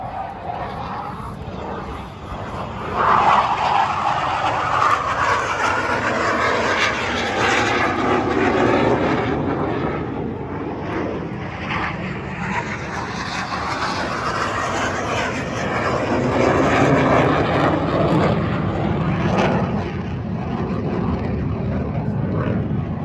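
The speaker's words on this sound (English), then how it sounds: "let you take a look at the T-45 Goshawk. It's taking off from our left to our right." T-45 Goshawk jet trainer taking off left to right at a Pensacola air show, a loud sustained jet engine roar that swells and holds steady as it passes; a voice speaks faintly beneath it.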